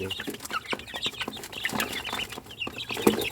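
Free-range young chickens, about a month old, cluck and peep continuously nearby on a cold, windy day, with several birds overlapping in a busy, irregular chorus.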